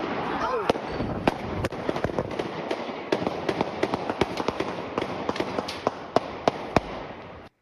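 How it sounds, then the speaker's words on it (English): Gunfire on South Street is caught on a cell phone. Repeated sharp cracks ring out irregularly through a noisy crowd, ending in several louder shots close together, with voices throughout. "Then you hear gunfire."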